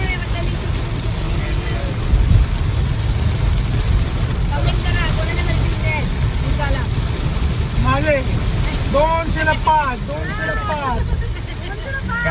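A dense, continuous roar of heavy May rain at Tiger Point, Lonavala, fills the clip, with people talking and calling out underneath it.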